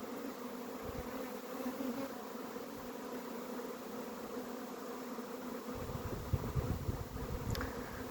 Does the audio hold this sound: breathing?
no